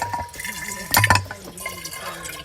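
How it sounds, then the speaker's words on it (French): A slow trickle of water from a fountain on a hill path to the Montesenario monastery, a soft running stream close by with a brief louder splash midway. "L'eau elle coule tout doucement."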